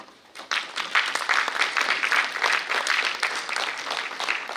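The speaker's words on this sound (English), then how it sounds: "Huge round of applause." Audience applause at a foundation day ceremony as a memento is presented, a dense, steady round of clapping that swells in quickly and holds loud throughout.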